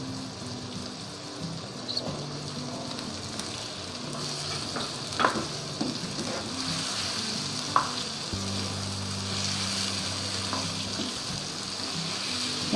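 Carrots for a mixed vegetable dish frying in a pan, a constant hissing sizzle close by with a few scattered clicks and scrapes of a spoon, no voices.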